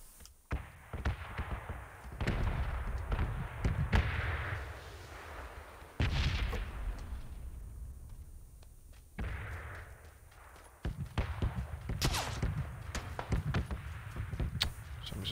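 Bursts of automatic fire from M4 and AK rifles in the video game PUBG, with sharp cracks at irregular intervals and short rattling strings between quieter, echoing gaps.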